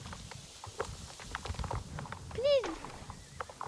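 Horse hooves clip-clop at a walk in the Star Stable Online game, light rhythmic steps beneath a girl's chatter, with a brief whinny rising midway.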